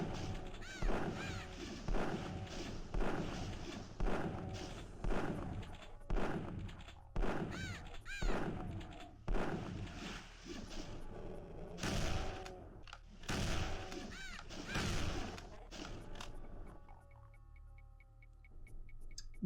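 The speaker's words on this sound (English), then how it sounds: "so we'll switch to the normal shotgun" A pump shotgun blasts again and again in a zombie shooter, about one shot per second in a steady rhythm, loud and punchy with brief gaps and a rumbling game backdrop.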